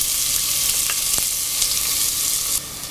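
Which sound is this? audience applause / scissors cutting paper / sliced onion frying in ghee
sliced onion frying in ghee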